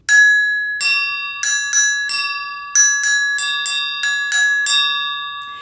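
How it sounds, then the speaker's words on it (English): Classroom percussion bells struck in a quick, uneven series of about a dozen bright metallic rings, each decaying briefly before the next, loud and close with no talk. "The smaller the bell, the higher the sound. The bigger the bell, the lower the sound."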